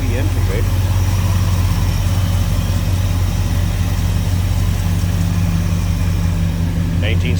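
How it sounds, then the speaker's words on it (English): A 1965 Chevrolet El Camino engine idles with a smooth, steady low rumble throughout, close and even, with someone talking faintly at the start and end. "Smooth runner, nice tidy engine bay."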